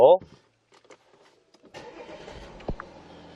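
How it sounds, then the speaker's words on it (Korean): A voice speaks briefly, then after a short quiet the 3.0 V6 TDI diesel engine of a fourth-generation Audi A6 quattro cranks and catches, settling into a low, steady idle nearby. "일단 이 차량 이제 시동타 한번 걸어볼게요"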